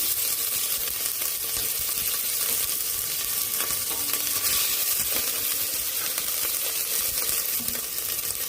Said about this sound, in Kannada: ಈಗ ಹಸಿರು ಮೆಣಸಿನಕಾಯಿನ ಹಾಕ್ತಾ ಇದ್ದೀನಿ